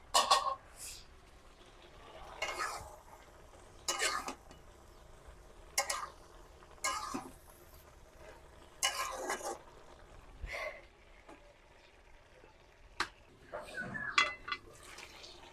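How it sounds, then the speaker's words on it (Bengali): Prawn-stem greens curry with green chillies stirred and fried in a pan, with bursts of scraping and sizzling strokes coming every second or two, close and moderately loud, and a little talk between them. "দেখেন এই যে ভালো করে লাড়া দিয়ে কষাই দিতেছি"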